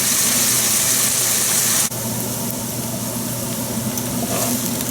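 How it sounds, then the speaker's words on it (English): Onions sweat in a hot pan for a chickpea and eggplant tagine, giving a steady, close frying hiss that drops slightly in level partway through and then continues evenly. "Let the onions sweat a little bit"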